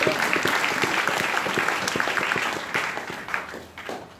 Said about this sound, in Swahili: Pigeni Yesu makofi